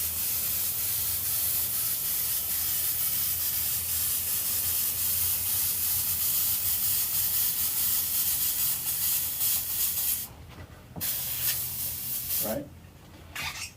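Airbrush hissing steadily as red paint is sprayed around a star stencil, a continuous close airy spray that cuts off briefly twice near the end.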